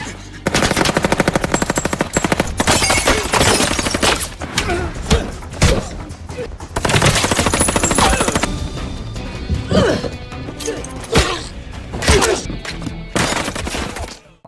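Rapid machine-gun bursts and heavy gunfire rattle through a violent Jason Statham action scene set around a ship, loud and nearly continuous for the whole stretch, broken by sharp cracks, thuds and crashing impacts.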